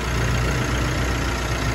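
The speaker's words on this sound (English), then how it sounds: "As you can hear, you've got the car running at the moment," A Mitsubishi Triton with a 2.4 litre turbo diesel engine, a 2016 model, idles steadily under the open hood, giving a close, continuous low rumble with no talk over it.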